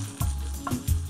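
Fish pieces stir-fried with shallots in a pan sizzle steadily up close, with a few scraping knocks of a utensil against the pan as they are tossed, no voices.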